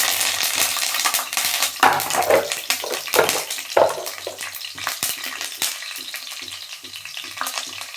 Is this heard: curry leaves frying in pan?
yes